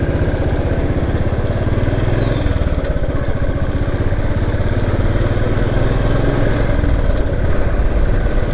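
A motorcycle fitted with a Harley-type mirror rides along a road with a steady, loud, close engine drone and rumble throughout, no voices heard.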